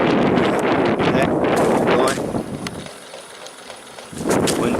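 Wind blows through a homemade bicycle wind generator, a loud gusting rush against the microphone that briefly drops away before surging back, with rustling underneath.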